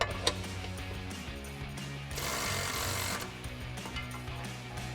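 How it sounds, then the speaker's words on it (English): A power tool drives the bottom bolt down on a running board bracket of a 2019-2023 Chevrolet Silverado 1500, giving a steady close buzzing whir that swells in the middle. "we'll come back and tighten down our bottom bolt"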